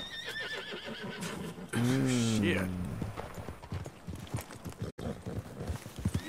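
A horse in Red Dead Redemption 2 neighs loudly with a long descending whinny, preceded and followed by hooves clip-clopping nearby; a voice talks over the hoofbeats.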